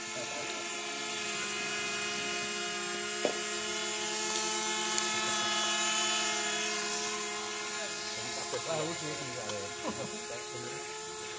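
A steady mechanical whirring drone with high rotor-like tones runs throughout, fairly close, while voices murmur faintly under it toward the end.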